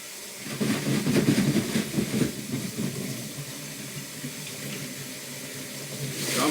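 Water runs steadily into a container being refilled to rinse fired brass cartridge cases. The flow gurgles and splashes at moderate volume, then settles into a steady hiss with no talking.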